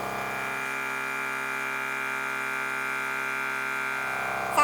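A Milwaukee M18 air compressor running on wall power drones with a steady, even motor hum as pressure builds and the motor works harder, loud and continuous, with a brief clunk at the very end.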